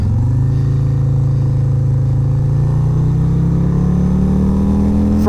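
A 2023 Harley-Davidson Road Glide ST fitted with the 131 big-bore kit pulls hard in first gear, its loud, close V-twin engine note droning and rising steadily in pitch without a break.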